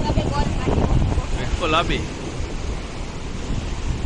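Rough water slapping around a small fishing boat, with heavy wind buffeting the microphone and a loud, continuous wash of waves; a voice speaks briefly partway through.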